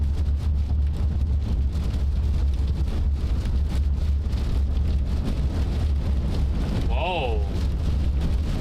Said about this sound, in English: Wind now. Some decent wind.